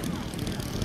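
A 100cc gas engine in an RC model aircraft running steadily, a buzzing propeller drone at moderate distance heard in a brief burst.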